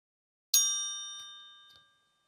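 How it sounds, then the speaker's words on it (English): A Christopher Ward Bel Canto watch strikes a single chime as its hammer hits the gong spring: one bright, clean metallic ring in the key of D that rises out of silence and slowly fades away. "a spring, singing out a single chime in the key of D."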